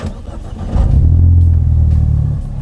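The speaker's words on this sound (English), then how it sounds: "on initial startup, the first thing we're going to notice is the exhaust is much more burbly than the factory system" Ford EcoBoost Mustang fitted with a Kooks turbo-back exhaust and a race tune fires up close by, a quick starter whir swelling into a deep, burbly exhaust rumble that holds steady and then eases slightly.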